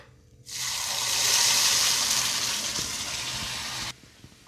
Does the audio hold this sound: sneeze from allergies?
no